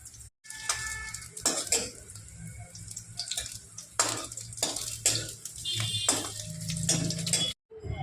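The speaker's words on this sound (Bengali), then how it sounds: "আর এক পিঠ ভাজা হয়ে গেছে, তাই আমি বড়াটাকে উল্টে নেব" A katla fish roe fritter sizzles in hot oil while a utensil scrapes and clinks against the pan in a series of sharp, close strokes as it is turned over.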